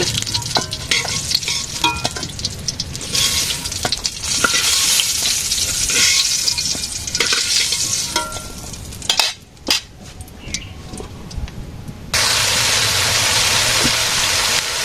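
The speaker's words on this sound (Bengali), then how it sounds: "এখন পটল ভাজবো" Pointed gourd (potol) frying in a pan, with a steady close sizzle, spatula scrapes and clinks throughout, a brief lull, then a louder renewed hiss; no speech.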